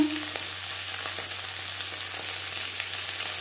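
Food frying in a pan over low to medium flame while being stirred, a continuous close sizzle with faint scraping of the spoon, steady and fairly loud with no voices.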